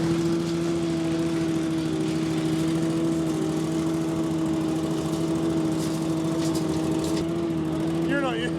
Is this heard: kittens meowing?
no